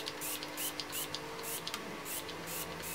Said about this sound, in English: I am going to spritz this Rimmel Insta Fix and Go setting spray on my face